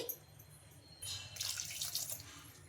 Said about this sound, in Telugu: ఇంకా ఇప్పుడు ఇందులోకి ఒక గ్లాసు వాటర్ అయితే వేసుకోవాలి